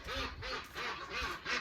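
Ducks quacking at their pond on a hot day, five rapid close quacks in a quick, evenly spaced run.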